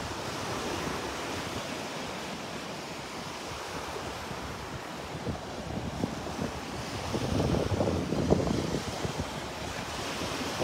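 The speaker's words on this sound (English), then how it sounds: "Walking into the wind now" Wind roars across the microphone on a Gulf beach at Delnor-Wiggins with a northwest wind, steady low rumbling gusts blending with the wash of surf that swells louder toward the end, with no talk.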